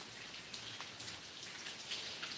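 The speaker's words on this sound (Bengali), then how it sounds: "রিমঝিম বৃষ্টি করছে" Light morning rain patters steadily onto a school and college campus field, heard from a covered veranda as a dense, even hiss with soft scattered drips, no voices.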